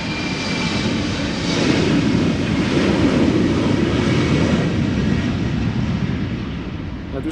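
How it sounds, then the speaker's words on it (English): A KLM Embraer 190 jet airliner at Amsterdam Schiphol produces a loud, sustained engine roar that swells slightly mid-clip and then eases, with some wind rumble and faint talk. "Next up, Embraer 190 to Düsseldorf."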